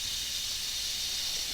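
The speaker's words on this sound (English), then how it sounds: "you can also do a controlled release by pressing it and letting some steam come out" Steam hisses steadily from the pressure valve of an Instant Pot cooking Texas chili during a controlled release, a continuous close, even rush with no talk over it.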